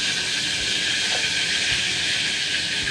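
Palm oil sizzles hard in a pan as onion and tomato fry, a steady loud hiss that fills the whole clip without pause, no voices over it.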